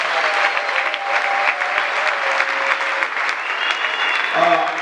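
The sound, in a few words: congregation applauding to acclaim the Lord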